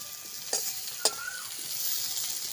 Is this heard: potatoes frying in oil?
yes